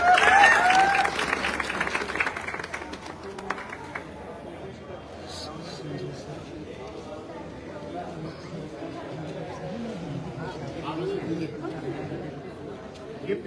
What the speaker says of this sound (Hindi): जोरदार तालियां सुनिए